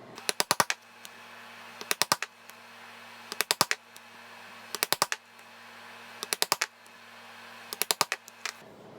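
A leather punch hammers stitching holes through leather for a satchel bag, heard as quick clusters of four or five sharp, loud strikes that repeat steadily about every second and a half over a faint steady hum.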